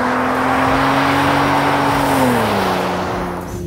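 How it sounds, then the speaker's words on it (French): A Maserati's V8 engine howls at high revs while the car drifts on ice in Lapland, loud and close throughout, its pitch holding steady and then dropping as the throttle eases near the end. "J'espère que vous entendez le moteur V8 chanter"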